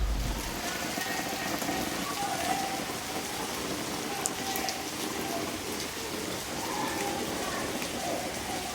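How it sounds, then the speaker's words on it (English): Steady rain falls on surfaces at a cave house in Spain on a warm day, a dense continuous patter without pause. Faint low rumbles of distant thunder sit under the rain. "Now I can hear thunder"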